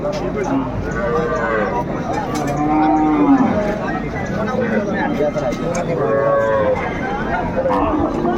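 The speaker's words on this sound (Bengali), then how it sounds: "সুন্দর গাভী বাছুর আমরা দেখছিলাম" Cows and calves mooing repeatedly at a busy livestock market in Dinajpur, Bangladesh, several drawn-out calls rising over a constant crowd murmur with people talking throughout.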